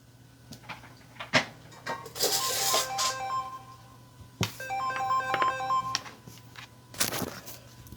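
A phone alarm chimes in repeating melodic tones amid nearby rustling and handling noises, close and moderately loud, with no one talking.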